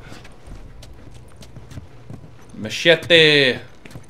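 Horse hooves clip-clop softly in The Last of Us video game, a faint irregular patter that is briefly joined near the end by a loud spoken voice.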